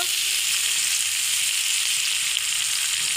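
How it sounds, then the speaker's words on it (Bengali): Chopped onions and green chilies sizzle loudly in oil in a karahi while cooking a village-style fish-head muri ghonto, a constant close hiss and crackle with no talking. "এই যে পেঁয়াজ দিয়েছি কড়ার মধ্যে, এখন এই তেল দিয়ে দিব।"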